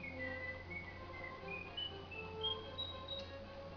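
A cartoon rabbit whistles a magic melody in a PlayStation platform game, a steady series of high held notes wandering over a continuous musical backdrop.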